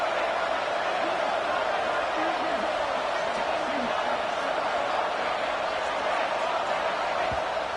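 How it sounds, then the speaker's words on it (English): College football stadium crowd in CFB 26 rising up during a tense late two-point try: a steady, loud, dense roar of cheering and noise that holds constant throughout, with a commentator speaking over it. "this crowd rises up to try to make it tough"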